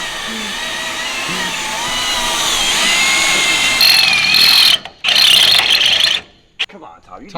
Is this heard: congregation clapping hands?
no